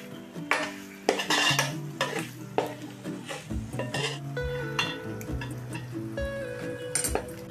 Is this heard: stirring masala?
yes